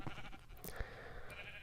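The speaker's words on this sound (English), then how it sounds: "I've just been having these sheep just kind of sit here in the hallway forever" A sheep bleating in the Minecraft video game, one short wavering bleat, faint and brief over a soft background hum, without talk.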